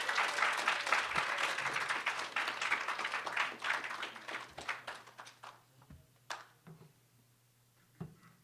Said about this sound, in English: let's give all of our teams a round of applause